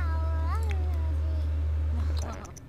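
A cat in The Sims 4 meows with a rising, wavering call early on and a second softer mew near the end, heard over a steady low game hum and music.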